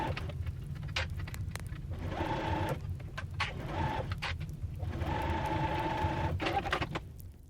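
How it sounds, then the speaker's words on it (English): A sewing machine stitches along the waistline of a sage green dress, its rapid mechanical whir running close in several bursts with short pauses between them. "I'm just going to stitch it right along"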